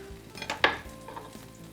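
Inside-out grilled cheese sandwich crisping in a hot pan, a soft sizzle under a scrape of a utensil, close and fairly quiet.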